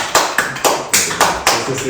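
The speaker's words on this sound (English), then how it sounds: "Let's just keep clapping, eh?" Podcast hosts keep clapping in a small studio, a handful of sharp, distinct claps spaced unevenly and heard up close, alone without speech.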